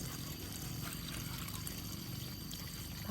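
Water pours and trickles steadily while fiddlehead fern greens are rinsed, a faint continuous splashing flow with no clear talk.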